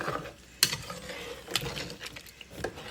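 A spoon stirs salt into egusi soup in a pot, giving short scraping and clacking strokes with a sharp knock near the start and a faint simmer underneath, close and fairly quiet.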